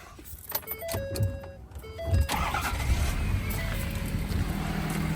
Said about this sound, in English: So let's start her up, listen to the engine.